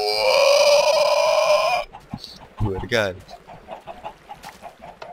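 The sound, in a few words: chicken clucking in Minecraft video game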